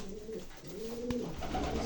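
Pigeons coo in a loft, several soft rolling calls overlapping close by, with a brief sharp knock partway through.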